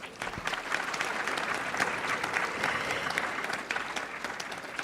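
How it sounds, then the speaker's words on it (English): Sustained applause from a conference audience at a headache medicine award ceremony, a dense, steady patter of many hands clapping that runs evenly throughout and eases slightly at the end. "An applause, please."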